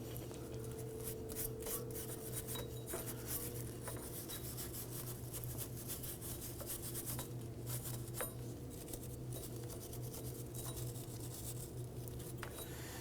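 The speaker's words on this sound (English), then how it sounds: "I like to take a bristle brush and kind of clean off the threads of the bolts themselves" Quiet, rapid scratchy strokes of a bristle brush scrubbing rust off bolt threads on a 2005-2009 Subaru Legacy wheel hub, a steady rasping scrub over a low constant hum, close and fairly faint.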